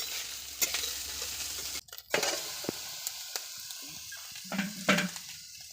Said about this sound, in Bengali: আবার বুড়িদের মতো সমানে খুন্তি নেড়ে যাচ্ছে।